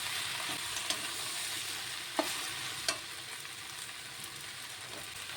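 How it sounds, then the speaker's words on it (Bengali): Malabar spinach and shrimp fry in a pan, a soft continuous sizzle with occasional light scraping clicks as they are stirred, fairly quiet and close, with no voices. "কিছুটা শাক দিয়ে প্রথমে আমি একটু নেড়ে ছেড়ে বাকি শাকগুলো দিয়ে দেব।"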